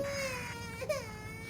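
A baby cries in the horror video game The Baby in Yellow, a sustained wailing tone with a sob-like break near the end, heard alone and fairly loud.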